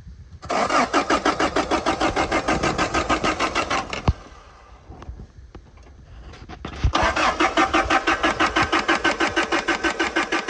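A car engine in a backyard body shop cranks rapidly with a fast rhythmic starter whir, pauses with a few clicks, then cranks again in a long pulsing burst. Loud and close, with no speech.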